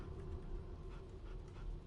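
A dog in the fantasy role-playing game Divinity Original Sin 2 pants quietly and whimpers over a steady low ambient hum, close and soft, with no talking.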